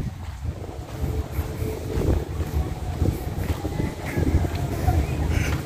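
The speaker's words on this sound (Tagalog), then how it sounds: "So mahangin lang siya." Gusty wind buffets the microphone outdoors while people bike around Jumeirah, Dubai, in drizzly weather, a steady broadband rush that swells and eases throughout with no clear talk.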